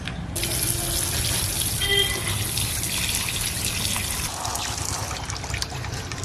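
Water runs steadily from a tap into a sink while a hilsa fish is washed, a continuous close splashing stream with small shifts as the fish moves under the flow.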